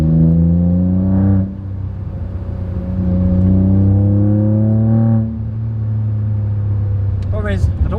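A Ford Fiesta Zetec S Black Edition with a Cobra exhaust drones steadily while driving, its engine note rising and falling through two surges of revving, heard from inside the car.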